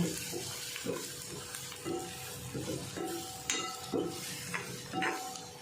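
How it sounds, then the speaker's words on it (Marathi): Spicy masala and onion being stirred and sautéed in a pan for a tomato chutney-style dish, with steady sizzling and repeated scraping strokes of a spoon across the pan, close and fairly loud. "हा तिखट मसाला आपण व्यवस्थित जरा परतून घ्यायचं"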